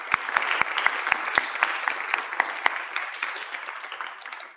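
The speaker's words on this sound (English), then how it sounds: "Let's give them a big round of applause." A hall full of people applauds finalists at the Next Gen National Awards Ceremony 2023, with a few sharp, close claps standing out over a broad, sustained wash that gradually tapers off.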